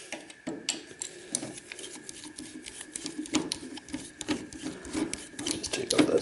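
A hand screwdriver works a screw out of salvaged security camera equipment, giving close, steady scraping and grinding turns with small clicks and rubbing noises throughout.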